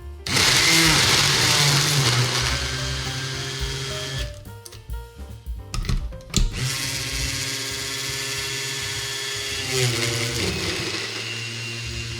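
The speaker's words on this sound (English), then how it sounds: "we'll be able to find out how well it can blend all of this frozen stuff" A Cocinare GoPower eLite blender grinds frozen ingredients, a loud whining motor with a choppy, stuttering stretch midway before the steady roar resumes, no talk.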